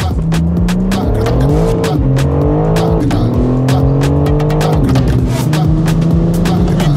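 Cars pull away on the Nürburgring circuit with loud engines revving up through rising gear changes, close and overlapping, with sharp transient bangs and some talk in the cabin.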